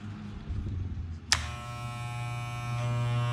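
A Wahl electric shaver with freshly replaced blades, after the old blade was chipped, switches on partway through and then runs as a steady, close, buzzing hum with no talk over it.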